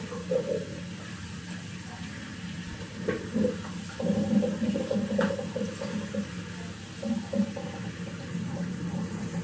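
Tap water running at a sink during shaving, a steady low hiss and splash with a few brief clinks and knocks over it and no talking.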